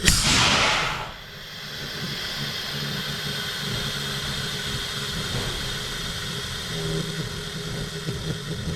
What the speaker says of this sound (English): just the line bleeding off